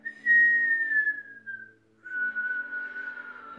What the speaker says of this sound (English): But it's a whistle.